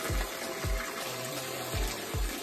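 Mountain spring water on a hiking trail at Mt. Manabu, Santo Tomas, Batangas, rushes in a steady close hiss, with low thumps recurring every half second or so.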